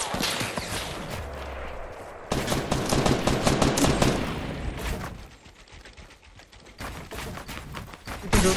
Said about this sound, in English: you're getting sniped from the other side too